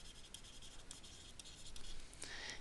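Pen or marker writing by hand while working a square-root math lesson, a steady faint scratchy rubbing in short strokes with brief pauses.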